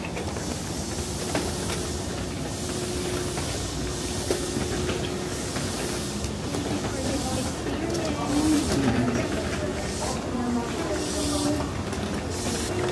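Steady rumble and hiss of a Kyoto Garaku sightseeing train running on rails, heard from inside the wooden-styled carriage as a continuous ride noise with faint background voices.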